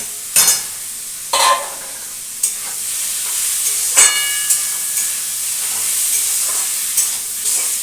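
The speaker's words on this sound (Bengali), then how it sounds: "কুমড়োটাও দেখো আগে ভেজে নিচ্ছি আর উচ্ছেটাও আগে ভেজে রেখেছি এবার একসাথে মিক্সড করে দেবো" Pumpkin and bitter gourd frying together in a pan, a steady close sizzle and hiss with repeated scraping stirs of a spatula at irregular intervals, no voices.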